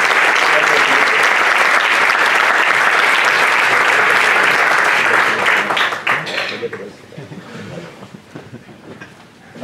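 A large crowd at a gastronomy competition awards ceremony in Alcalá applauds loudly and steadily, then the clapping thins out and fades toward the end, with voices emerging beneath it.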